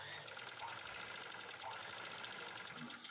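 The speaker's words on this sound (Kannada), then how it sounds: "ನೋಡಿ ಹೀಗೆ ಸ್ಟಿಚ್ ಮಾಡ್ತಾಯಿದ್ದೀನಿ" A sewing machine stitches in a fast, even whirring run, faint and close, its mechanical chatter continuing without a break.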